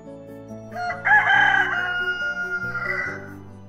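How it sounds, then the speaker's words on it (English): A rooster crows once in a picture-book read-aloud with music, a loud rising then falling cock-a-doodle-doo heard clearly over soft sustained background music. "Crowed the rooster."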